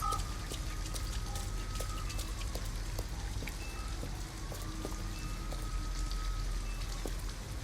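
Steady rain falling in Detroit: Become Human, a dense constant patter of drops on surfaces with a low rumble underneath, continuous and even throughout with no talk.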